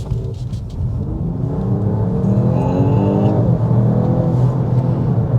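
A 2025 Mercedes-Benz AMG E53 on a road test drive, its engine pulling hard with a loud, steadily rising drone and a deep rumble from inside the cabin.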